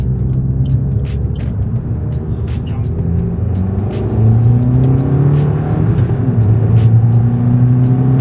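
A Suzuki Swift Sport with a straight-pipe exhaust drones with a deep, throaty rumble nearby, swelling a bit louder midway, with people talking over it.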